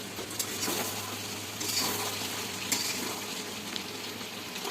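Food fries in a pan while it is stirred, so a continuous close sizzle carries scraping and clinking of the utensil, with a few sharper knocks against the pan.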